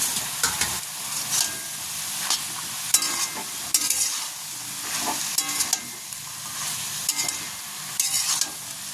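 Grass pea greens (khesari korai shaak) are stirred in a pan as they sizzle and release a little water, with repeated close scraping strokes over a constant frying hiss.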